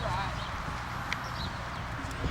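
A pony walks during a riding lesson with soft, faint clip-clop hoofbeats in a steady rhythm under low background noise, and a voice is heard briefly.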